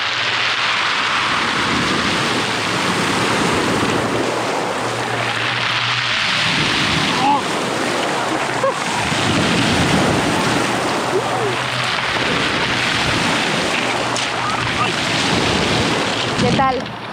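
Waves rolling and dragging stones on a northern beach in France, a steady loud roar of surf with rattling pebbles throughout, swelling and easing in broad surges.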